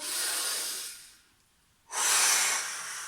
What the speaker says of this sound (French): J'inspire profondément et je lâche la tension.